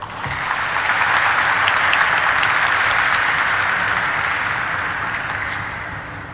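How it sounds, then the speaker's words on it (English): Audience applause fills a stock-exchange listing ceremony for Vibhor Steel Tubes Limited, a dense, steady wash of many hands clapping that swells and holds for several seconds, then slowly tapers off, with no voices over it. "Let's once again give a huge round of applause for Mr. Vijay Kaushik"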